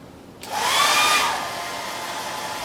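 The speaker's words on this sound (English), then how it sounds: "I'm going to give it one more time under the hairdryer" A hairdryer blows on freshly painted pumpkin, switching on abruptly with a loud rushing whoosh and a faint whine, then settling into a steady, slightly softer airflow, close and alone.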